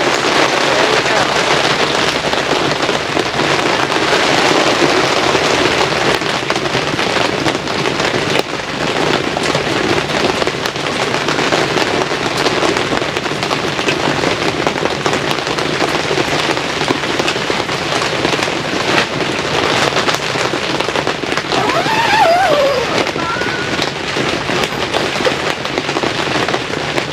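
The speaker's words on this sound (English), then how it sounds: "Our spring rain." Heavy spring rain drums loudly and continuously on surfaces during an 80 mph wind and rain storm in Kansas, a dense unbroken roar with gusty swells.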